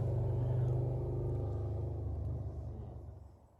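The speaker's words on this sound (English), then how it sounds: "Lots of motorcycles around today." A low engine rumble from a passing motorcycle or car at the Vista House, steady then fading away, with faint traffic noise behind it.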